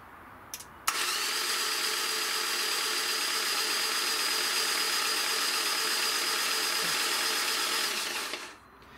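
A Hyundai Elantra 1.8 G4N engine, freshly rebuilt with its fuel cut off, is cranked by the starter in one long continuous whirring run of about eight seconds, close and steady, with no talk.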